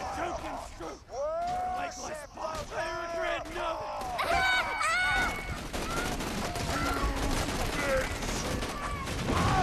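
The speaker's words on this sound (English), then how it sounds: "Take that shotgun to the face!" Shotgun blasts and scattered gunfire in Borderlands 2 combat mixed with shouting voices and bellowing enemies, with the shooting growing denser in the second half under a busy battle din.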